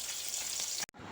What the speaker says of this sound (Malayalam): നമ്മൾ മത്തി പൊരിക്കുന്നതും കൂടി ഉണ്ട് കേട്ടോ